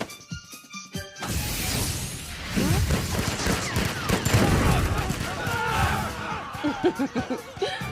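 Anime gunfire erupts after a couple of quiet clicks, a long, loud, rapid fusillade of shots with crashing impacts that gradually breaks into scattered bursts.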